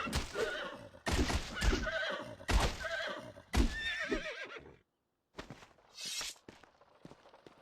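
Several loud horse neighs and whinnies in a row from The Bard's Tale action RPG, set in the game town of Kirkwall, each call rising and trailing off, with a short silence and then fainter hoof and step sounds.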